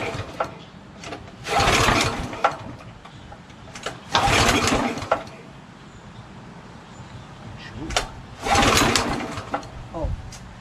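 A Honda GX340 11 HP pressure washer engine is pull-started in several bursts, each a short, close rattling sputter and roar that dies away, with quieter gaps between tries.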